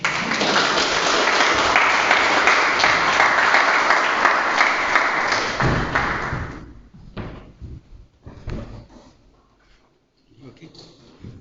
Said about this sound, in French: on applaudit Nand de Bouddha